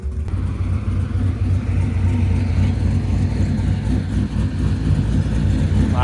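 A 1998 Camaro with an LS1 V8 rumbles loud and close, its engine revving and holding a steady, heavy low drone for a burnout with no pauses.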